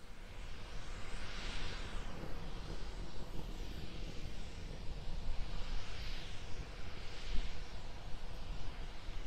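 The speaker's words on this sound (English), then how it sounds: "We're still being powered by the single Raptor engine." A single Raptor rocket engine firing on the Starship SN10 test flight, heard as a steady, broad, distant roar with slow swells in intensity and no voices.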